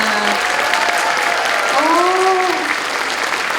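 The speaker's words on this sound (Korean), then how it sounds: "문화예술 동아리 한울팀에게 여러분 다시 한번 뜨거운 박수 부탁드립니다." An audience at a city community concert applauds loudly and continuously for a student arts club of middle and high school performers, a dense, even wash of clapping.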